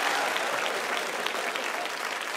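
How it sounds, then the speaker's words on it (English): A crowd claps steadily, a loud, even wash of applause that holds for a couple of seconds without pause. "Round of applause."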